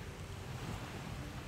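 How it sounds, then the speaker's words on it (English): Small boat wakes lapping on a calm Caribbean beach in Belize, a steady wash of surf mixed with heavy wind buffeting the microphone, continuous and close. "it's mainly just boat wakes right here."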